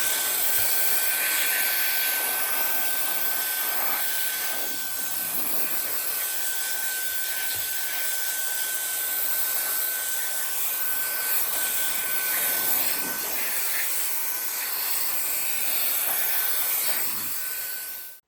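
A cordless turbo blower air duster for keyboard, PC and car cleaning runs steadily at its second speed setting, giving a loud, even whooshing roar with a thin high motor whine that holds unbroken for the whole stretch.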